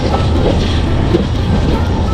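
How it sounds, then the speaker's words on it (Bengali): A slow local train clatters along the track near Chittagong, its rumble and rhythmic wheel clicks steady and close throughout, with no voices. "আমাদের এই লোকাল ট্রেনটি আসলে অনেক আস্তে আস্তে চলছে"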